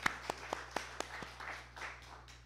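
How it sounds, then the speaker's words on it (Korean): Church congregation clapping during a Pentecost Sunday service, a quiet run of distinct claps near the start thinning into softer, scattered applause. "큰 박수 부탁드립니다"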